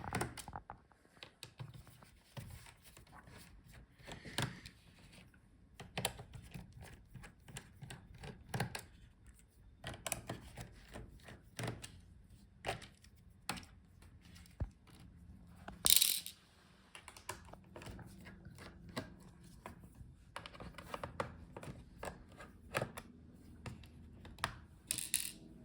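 Small screws being backed out of the bottom case of an HP Omen 16 laptop, a steady run of close, faint clicks and ticks from a screwdriver with scattered sharper taps, no voices.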